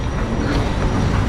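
A train rumbles steadily along the tracks at a station in Malaysia, a loud, continuous roar of wheels and carriages close by with no voices.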